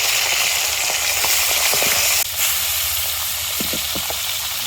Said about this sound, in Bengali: এখন ট্যাংরা মাছ করে ভালো করে ভেজে নেব।